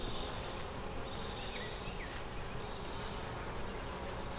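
Honey bees buzzing inside an opened double deep hive, a steady dense hum holding throughout with a few higher buzzes of individual bees passing close.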